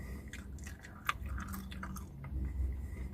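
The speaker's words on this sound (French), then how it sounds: "j'exagère un peu les bruits de bouche. C'est pour vous montrer que ça croustille" Crunchy McDonald's vegetable fries, including beetroot ones, are chewed close to the mic with exaggerated mouth sounds. Several crisp crunches and wet bites are spread unevenly over a few seconds, with no talking.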